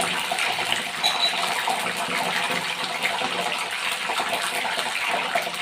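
A splash of water goes into medu vada frying in hot oil, giving a steady, loud, hissing sizzle that stays even throughout with no voices.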